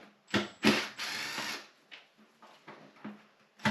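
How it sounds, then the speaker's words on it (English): A hand ratchet works loose the bolts on the airbox lid of a Honda VFR800 motorcycle, giving short, close bursts of rapid clicking separated by brief pauses and softer taps. "take all the bolts out."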